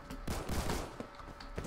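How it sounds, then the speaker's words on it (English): Gunfire in the online shooter game Phantom Forces: a quick volley of sharp shots with muffled bursts, moderately distant and fairly quiet, over a steady background hum. "A lot of gunshots though."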